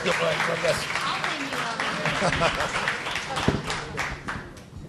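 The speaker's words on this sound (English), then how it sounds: "please give her a round of applause" An audience claps for Liz Carter at a politics talk event, a dense moderately loud applause with scattered sharper claps that continues for the whole stretch, with faint talk underneath.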